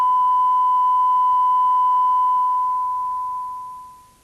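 A constant pure 1 kHz TV test pattern tone sounds evenly, then fades away smoothly over the last second or so.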